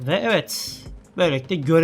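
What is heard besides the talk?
No everyday noise stands out behind the speech.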